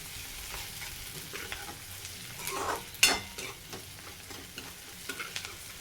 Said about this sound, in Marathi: आता अजून थोडंसं परतवायचं व्यवस्थित